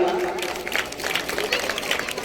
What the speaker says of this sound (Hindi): तो सर के लिए जोरदार तालियां।